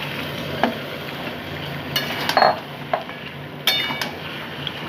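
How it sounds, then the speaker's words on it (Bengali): Chicken pieces going into a frying onion spice masala for chicken curry: a low sizzle throughout, punctuated by a few sharp clinks and scrapes of a spoon against the pan. "মশলা প্রায় কষে এসছে এখন আমি মাংসগুলোকে আস্তে আস্তে দিয়ে দিচ্ছি"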